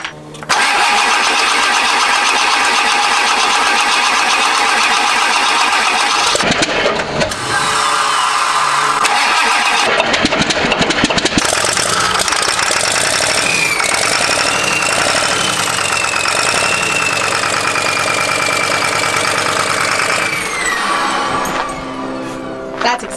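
A rebuilt Ford 7.3 Econoline 4x4 off-road van engine cranks loudly, stutters, then catches and settles into a rough, loud running idle. Voices are heard briefly.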